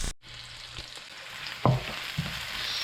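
Onion fries in a pan until golden brown, a quiet steady sizzle broken by a few scraping stirs and light utensil knocks, close and unhurried.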